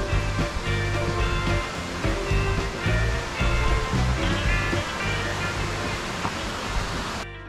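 Oylat Waterfall rushing nearby, a loud, steady broadband roar of falling water that continues unbroken for the whole stretch.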